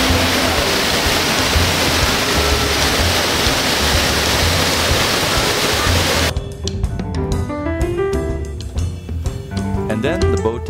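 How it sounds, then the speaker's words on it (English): A Norwegian waterfall roars as a loud, steady, broadband rush for about six seconds, then cuts away to quieter sounds with voices and tones. "Fresh, cold Norwegian waterfall water."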